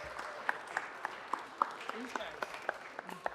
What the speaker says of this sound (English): I just want to give them a huge round of applause for that work.